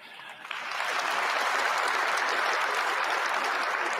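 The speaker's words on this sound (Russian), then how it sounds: "присоединяюсь к вашим аплодисментам" Sustained audience applause in the hall during Putin's 2024 address to the Federal Assembly, rising quickly after a brief quieter start and then holding steady and dense, close and loud.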